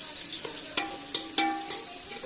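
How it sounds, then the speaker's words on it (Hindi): Onions frying in a pan until pink, for fried chicken liver; a low sizzle broken by several sharp spoon scrapes and taps against the pan in an uneven rhythm, close by. "प्याज को हमने थोड़ा सा गुलाबी होने तक फ्राई करना है जी।"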